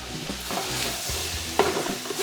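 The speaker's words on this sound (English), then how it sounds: "What I'm doing right now is called deglazing" Liquid hits a hot brisket pan while deglazing, giving a loud, steady sizzle with scraping stirs and a sharper clink partway through, close and without talk.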